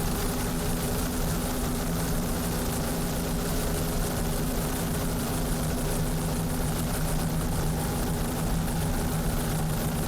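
Helicopter hovering over a 2004 Sarasota powerboat race, its rotor and engine making a steady, faint, continuous drone with a rhythmic beating texture and no voices.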